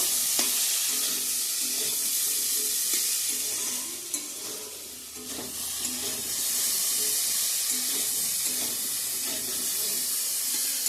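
Water being added to spice masala frying in a pan at home, a steady hiss and sizzle with stirring scrapes, a brief dip and surge of watery bubbling midway, then continued sizzling.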